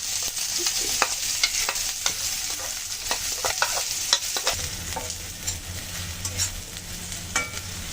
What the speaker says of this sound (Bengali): এই ফোড়নের পেঁয়াজ রসুনটা কিন্তু একটু বেশি ভালো করে ভেজে নিতে হয়, লালচে করে